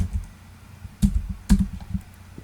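A few keystrokes on a computer keyboard entering an AutoCAD command, several soft distinct taps with a couple of sharper presses, close by with a low background hum.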